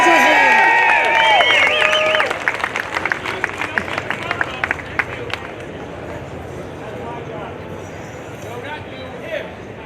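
A rally crowd at a Second Amendment gathering in Phoenix, Arizona cheers and claps. Loud whoops and whistles come first, then they fade into a scattered, thinning patter of applause that trails off over several seconds.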